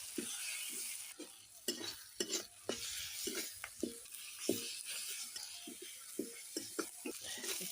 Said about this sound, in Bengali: একটু ভালো করে কষিয়ে নেবো মশলাগুলো